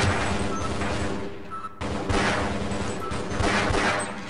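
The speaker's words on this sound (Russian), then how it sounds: "О, жуков пушка отстреливает." Sentry gun turret in Half-Life firing on alien bugs, a dense sustained burst of rapid gunfire with a brief pause midway, loud and continuous alongside game explosions.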